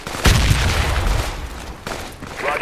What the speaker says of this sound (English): Grenade!